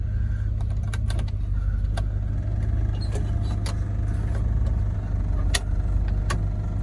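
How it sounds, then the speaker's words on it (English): A fan runs inside a 1967 Pontiac GTO cabin, giving a steady low hum throughout, with scattered faint clicks and ticks over it and no talking. "Fan makes a little bit of noise."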